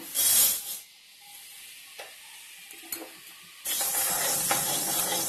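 Fenugreek seeds dry roasting in a pan while sambar powder is made, giving a hissing, sizzling crackle that starts loud, dies down to faint scattered pops, then returns as a steady dense crackle near the end.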